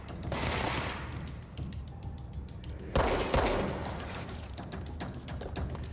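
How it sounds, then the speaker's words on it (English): Gunfire in the game Control, rapid bursts of automatic shots in two loud volleys, fairly close, with reverberant thuds and no talk. "Who's shooting at me?"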